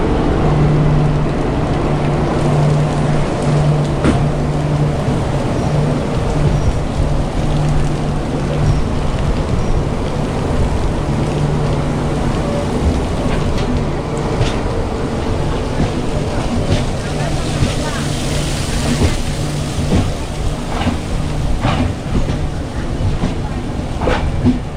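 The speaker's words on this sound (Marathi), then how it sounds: "आपण निघालो मित्रांनो पावसातून" Heavy rain drums steadily on a Mandovi Express train of the Konkan Railway as it leaves Khed for Dadar, mixing with continuous rolling train noise for the whole stretch, loud and unbroken.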